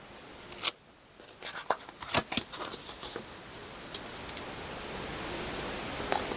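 Scissors snipping and trimming paper for a large Dutch door journal spread: a few sharp, close cuts and crisp paper rustles spaced irregularly, with a quieter stretch and one last snip at the end.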